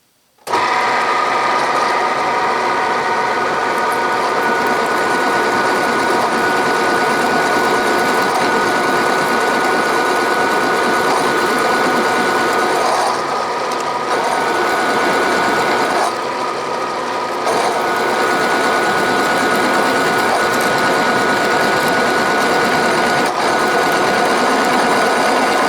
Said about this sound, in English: Let's see how this big old 1-inch Chinesium silver and Deming drill will handle this from a 3/8 up to a 1-inch.